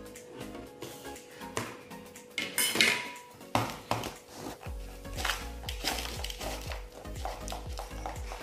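Spoon stirring a tablespoon of chili powder into a mixture in a bowl, with repeated scraping and clinking strokes of moderate loudness, close by, with no talking.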